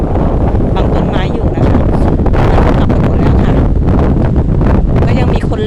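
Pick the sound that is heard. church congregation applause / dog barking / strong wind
strong wind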